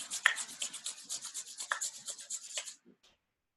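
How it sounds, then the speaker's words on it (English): Hands rub together briskly in a quick rhythmic back-and-forth, soft and close, about three seconds of dry skin-on-skin friction before it stops into silence. "rub your hands together"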